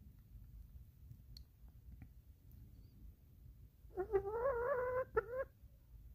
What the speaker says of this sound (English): Oh, yes, you are a lovely chicken.